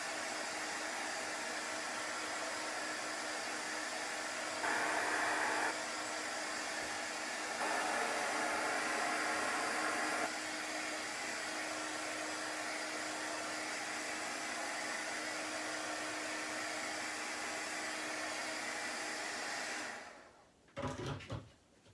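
A hair dryer blows steadily and loudly up close for about twenty seconds while drying chalk paint on a wooden board, briefly rising in strength twice before switching off at the end.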